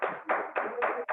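Short bursts of clapping, five in quick succession, at a spiritual online gathering honouring Vimla ji, moderately loud with no talk over them.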